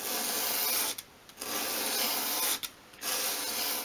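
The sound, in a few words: small wood piece sanded at an angle on sandpaper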